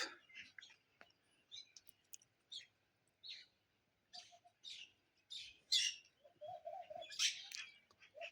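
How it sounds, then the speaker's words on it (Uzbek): Birds chirping and tweeting in short bursts across the clip, with a few lower dove-like coos near the end, fairly close and clear, no talking. "qushlar ovozini eshityapsizlarmi azizlar?"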